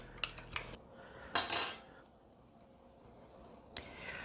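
A spoon clinks and scrapes in a bowl while cinnamon and brown sugar are mixed, a few sharp close taps, a brief louder rattling scrape, then quiet and one last tap.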